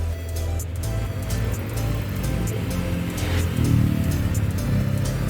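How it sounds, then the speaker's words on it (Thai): A Yamaha Aerox 155 scooter engine runs at a steady idle after a remote start, a continuous low hum that stays even throughout. "นี่คือเครื่องติดแล้วครับก็คือสามารถขับขี่ได้เลยครับ"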